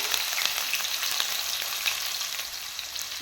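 Sliced onions sizzle steadily in hot oil with whole garam masala spices such as cinnamon and star anise, a dense crackling hiss with small pops, close and continuous with no voices.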